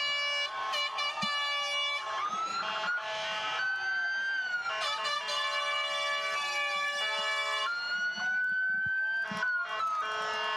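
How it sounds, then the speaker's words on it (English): A loud wailing ambulance siren sweeps up and down continuously, joined by blaring horn blasts, close by and dominating throughout, at the San Diego Pride Parade. "Oh, you hear the sirens."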